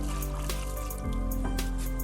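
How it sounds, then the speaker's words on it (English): Water trickles and drips in a backyard garden while bougainvillea plants are watered, a soft close liquid patter with a brief gurgling shift midway. "let me just water these paper flowers right here"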